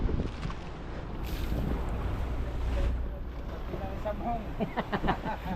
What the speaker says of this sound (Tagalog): Malaki ang alon, malakas ang hangin.